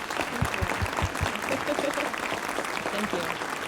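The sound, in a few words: applause for the staffers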